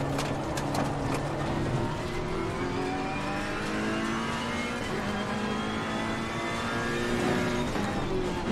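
Ferrari GT3 Evo race car accelerating around Oulton Park in the racing game Assetto Corsa Competizione, its engine revving steadily upward through a gear in a continuous loud roar with whining harmonics and faint tire noise.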